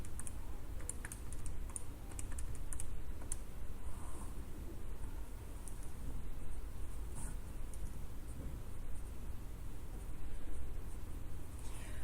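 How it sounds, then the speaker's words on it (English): Numbers being typed in on a keyboard, a quick run of soft, close key taps and clicks that keeps going steadily over a quiet background hum. "I'm going to go ahead and type this in."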